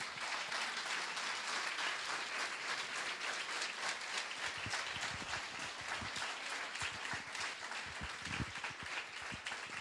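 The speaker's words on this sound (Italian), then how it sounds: "facciamogli un applauso" A lecture audience applauds a speaker for close to ten seconds, a steady wash of many hands clapping at even loudness throughout, with no voices over it.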